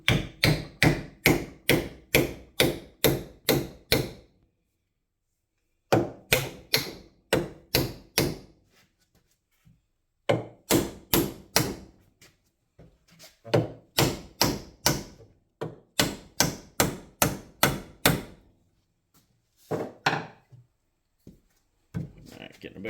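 Steel hammer blows pound a pitted Pulaski axe head on a workbench, coming in fast bursts of about eight to ten sharp strikes separated by short pauses.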